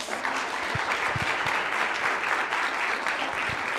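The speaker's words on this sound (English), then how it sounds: "Please give her a round of applause." An audience applauds a medal winner at a Martin Luther King Jr. Day of Service event, with steady, dense clapping that holds at an even level throughout.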